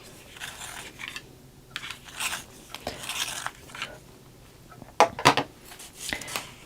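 A brown coloured pencil is sharpened in a handheld sharpener, giving a series of soft scraping twists and small clicks, close and fairly quiet, with a few sharper crisp scrapes near the end.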